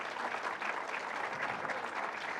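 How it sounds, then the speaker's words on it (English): Steady round of audience applause at a literary event honoring translators, a fairly soft, even patter of many hands with no speech. "give a very special round of applause to"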